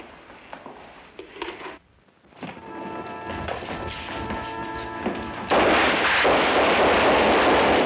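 Battle gunfire from a 1951 Korean War film: scattered sharp shots, a brief silence, then a building roar of heavy firing and crashing blasts that swells into a dense, continuous barrage.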